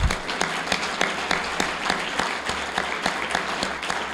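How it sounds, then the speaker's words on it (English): Applause from a Rotary Club scholarship fund gathering for program mentors, a moderate crowd clapping steadily with distinct sharp claps standing out, no talking over it. "I would like a round of applause for these people."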